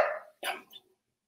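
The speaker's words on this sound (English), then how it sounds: "dog's barking upstairs" Indoors, a dog barks from upstairs, two short, muffled barks sounding faint and distant before silence.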